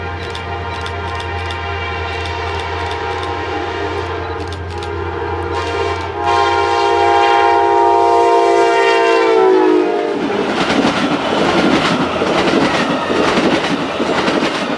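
A manifest freight train on the CSX line sounds a long, loud, sustained multi-tone horn up close. The horn cuts off, and the heavy rumble and clatter of passing railcars take over, with no talking.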